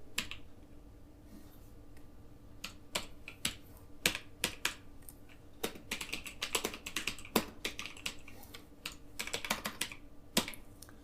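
Someone types an address into an online admission form on a computer keyboard, producing quick irregular bursts of close, crisp key clicks separated by short pauses, with no talking over them.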